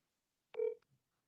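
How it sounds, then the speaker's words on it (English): A single short electronic dialing tone, a clean steady beep lasting about a quarter second, sounds close and alone, followed by a faint soft click, as a phone call is being placed. "I'm gonna make a quick phone call right now."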